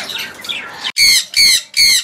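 A large parrot at a bird farm gives three loud harsh squawks in quick succession, close to the microphone, after a briefer raspy call.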